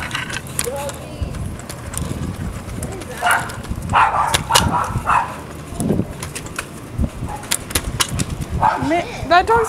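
A dog barks in short, sharp, irregular bursts nearby in a neighborhood, mixed with people talking and outdoor noise.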